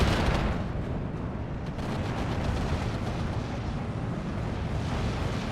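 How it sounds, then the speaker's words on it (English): Mortar artillery fire in the WWII strategy game Steel Division II rumbles as a dense, low, continuous roll of distant blasts and booms, loudest at the very start and then rolling on steadily. "I hate that these mortars are arriving so late."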